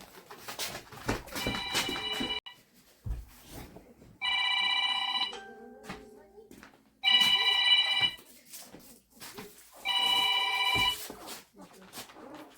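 A mobile phone rings in a home in repeated bursts of an electronic ringtone, four loud rings separated by gaps, with people talking and moving around between them.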